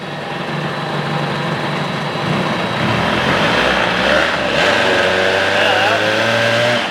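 A 1975 Johnson 25 hp outboard motor idles steadily nearby, a low droning hum with a faint rise in pitch partway through.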